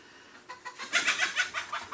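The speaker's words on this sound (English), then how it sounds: "there goes the cat after the chickens again" Chickens cluck in a short burst of quick, rising calls, fairly close and clear with no talk over them.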